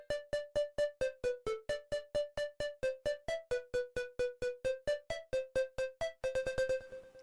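A Gamer preset from the mini synth in FL Studio Mobile plays a melody of short, plucky, bright electronic notes in a quick even rhythm, ending in a faster flurry of repeated tones, with no talking.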